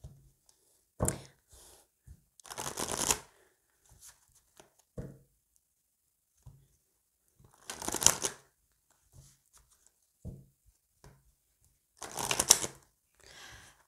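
Tarot cards are shuffled close by in four distinct riffling bursts, separated by quiet gaps with faint taps and handling sounds.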